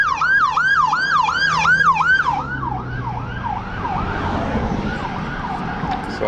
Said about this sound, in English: Especially with that ambulance going through